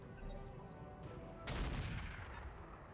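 Mech weapons fire in the RogueTech battle game, a steady rumble of shots that swells into a louder, dense burst of impacts partway through, with no voices.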